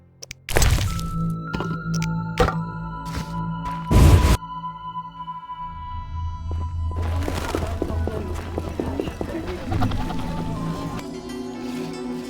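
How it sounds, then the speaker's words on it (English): Heavy feet thump on a floor in The Witcher game, landing as a few loud, sharp impacts near the start and again around four seconds, followed by a steady rumbling background. "Stop thumping your feet."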